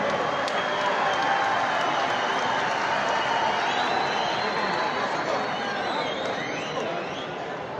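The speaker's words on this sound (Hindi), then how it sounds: "जरा सब तालियों की गूंज में बताइए" A stadium crowd applauds and cheers at the Imran Khan Stadium as cricket players arrive, a steady wash of clapping and chatter with a voice talking over it.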